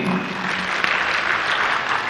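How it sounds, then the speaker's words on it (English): Crowd applause at a political party rally in Eldoret, Kenya: a broad, steady wash of clapping, moderately loud and somewhat distant, with a faint voice underneath. "Clap for him."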